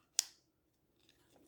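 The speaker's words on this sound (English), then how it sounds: "when I'm done, I have to cut the zip tie off." A zip tie snipped off, one sharp, close snap of the cut followed by quiet, then faint rustling handling noises.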